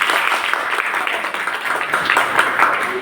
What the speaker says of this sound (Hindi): तो एक बार डीटीएम के लिए तालियां नहीं होनी